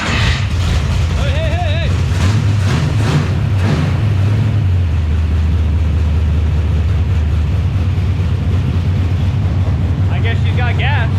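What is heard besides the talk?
Double Trouble engine firing up and running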